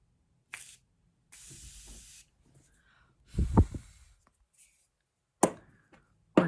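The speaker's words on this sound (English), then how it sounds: "This is the Morphe Continuous Setting Spray." A bottle of Morphe Continuous Setting Spray hisses in several short, close bursts separated by silence: one quick spritz, then a longer steady mist, then two sharp pumps near the end, with a brief breathy sound between them.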